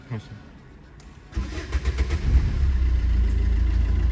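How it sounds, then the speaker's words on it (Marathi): A car engine cranks with the starter in a short burst, then catches and settles into a steady, loud idle close by during a dashboard demonstration. "आता मी तुम्हाला इंजिन स्टार्ट करून दाखवतो."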